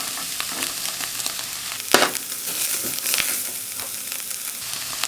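Carrots tipped into onions and garlic frying in butter for a Bolognese ragù, a loud close sizzle with scraping stirs and a clattering thump as they land in the pan.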